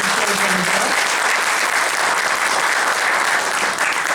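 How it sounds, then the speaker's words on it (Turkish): Loud, sustained applause from an audience at a municipal music event, many hands clapping in an even, dense roar with a faint voice near the start. "Büyük alkışlar"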